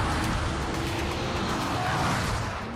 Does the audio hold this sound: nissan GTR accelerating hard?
yes